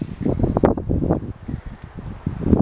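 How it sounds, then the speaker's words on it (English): Gusty wind buffets the microphone with low rumbling blasts that rise and fall, loud and close, with no other clear sound. "All right, it's windy over here."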